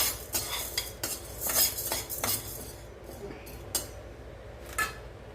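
Toor dal dry-roasting in a pan, stirred with a spoon: irregular scraping clinks and rattles, close and moderately loud, with no talk.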